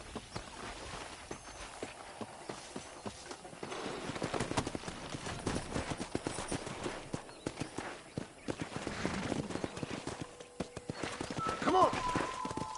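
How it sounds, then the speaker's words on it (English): Hooves clip-clop steadily over the ground, and a horse whinnies near the end, in a Red Dead Redemption soundscape on PS5 Pro with faint voices in the background. "let's see if we can't wrangle some horses"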